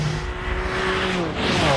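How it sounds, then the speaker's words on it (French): A BMW sports car with a titanium exhaust rushes past at speed on a long straight, a loud sustained engine drone with a rising then falling pitch and some tyre noise, close and continuous for the whole moment. "on a l'échappement titane qui contribue au bruit, à l'ambiance"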